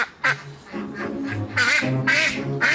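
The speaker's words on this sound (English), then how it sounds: "there's the small matter of 7 ducks who refuse to go peacefully" Seven ducks on a West Wales smallholding quack in loud, close, overlapping bursts, several harsh calls in quick succession with some lower honking notes, and no talk over them.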